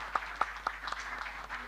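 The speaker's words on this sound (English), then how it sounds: "a round of applause for President Ta" Applause for a president at the official opening of an annual general meeting, a brief, light, thin patter of claps that dies away quickly, fairly soft and distant in the hall.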